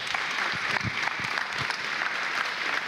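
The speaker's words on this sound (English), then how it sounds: "Can you give Kim a clap" A congregation in church breaks into a few seconds of steady, fairly close applause with scattered individual claps, no voices over it.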